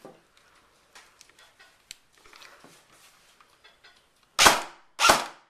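A Magpul M7A1 airsoft rifle on a 9.6V battery fires two loud, sharp bursts close by, spaced about half a second apart, after a stretch of quiet handling clicks.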